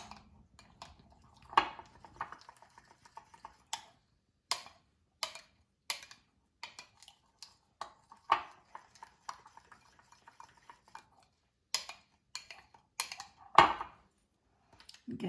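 Spoon stirring miso and honey in a small bowl to dissolve them before they go into oil for a salad dressing, heard as a run of short, separate clinks and scrapes close by, with no talking.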